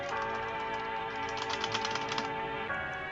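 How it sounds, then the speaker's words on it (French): Keys on a computer keyboard click in a quick steady patter, close and moderately loud, over a constant tonal hum from a game running in the background. "Je clique sur mon clavier, hein."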